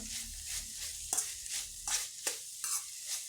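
Bitter gourd and vegetables sizzle in a hot pan while a utensil stirs and scrapes in a steady rhythm, with several sharp clinks, close by.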